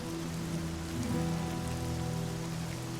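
Steady rain pours onto surfaces, a dense continuous patter with a low background hum, no voices present.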